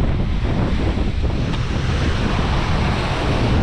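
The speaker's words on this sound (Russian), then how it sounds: "Сильнющий ветер сегодня." Strong wind blows along the seashore at Zelenogorsk, a steady, loud roar buffeting the microphone over continuous crashing surf, with no voices.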